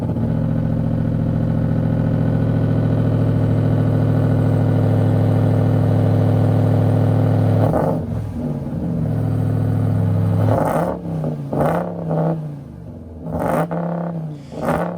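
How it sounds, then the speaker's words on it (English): A truck engine fires up and settles into a loud, steady idle, then revs several times in sharp bursts close to the microphone, with no talking. "And John, it sounds awesome starting up."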